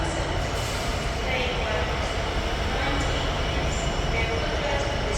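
Northern class 158 diesel unit, four carriages, pulling into a station platform on the Settle line route to Leeds; a steady, loud rumble of the arriving train with faint wheel squeal, continuous throughout.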